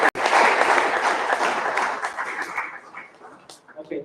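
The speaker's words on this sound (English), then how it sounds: "Let's give a big round of applause to the team B." An audience at an all-India debate competition bursts into applause for a team, loud and full at first, then thinning into scattered claps that fade toward the end.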